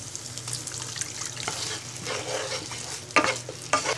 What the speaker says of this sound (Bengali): এবার মশলাগুলো কিছুক্ষণ ভেজে নিব এখন দিচ্ছি আধা কাপ পরিমাণ হোয়াইট ভিনেগার